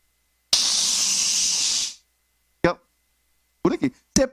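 A voice imitates a boiling pressure cooker with a loud, steady hiss lasting over a second, followed by a few short spoken bursts.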